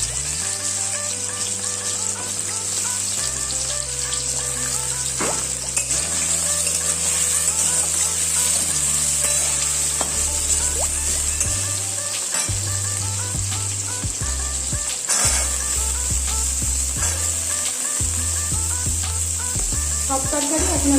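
Mixed vegetables fry and are stirred in a pan over low heat for sago khichuri, a steady close sizzle running throughout over background music.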